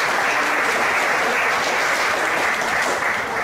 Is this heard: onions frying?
no